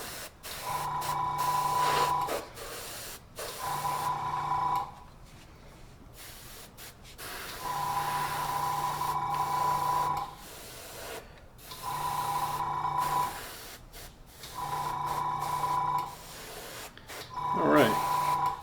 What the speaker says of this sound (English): So I've kind of gone through and airbrushed most of that stuff.